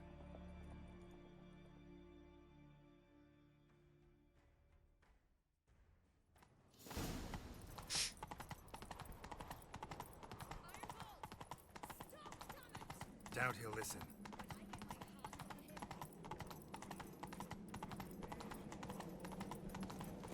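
In the video game The Witcher 3, after a quiet stretch with a short spoken line, rapid horse hoofbeats clatter in a steady galloping rhythm, close and continuous to the end.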